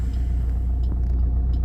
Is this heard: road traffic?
yes